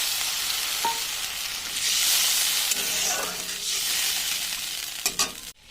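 A little water is poured into spice paste frying in a pan for a lentil-fritter curry, and a bright hissing sizzle swells up. Spatula clinks sound near the end before the sizzle cuts off.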